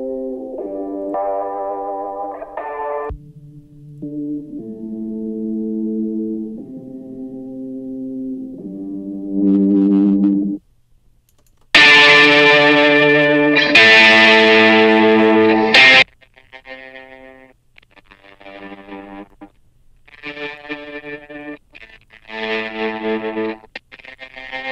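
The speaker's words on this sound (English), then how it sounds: "So you hear all that resonance, all that tingy resonance in the guitar." An electric guitar played through a Techivation T-Clarity EQ filter rings out in sustained phrases, shifting from a darker, muffled tone to a bright, harsh, resonant burst and then back to a thinner sound, with no talking.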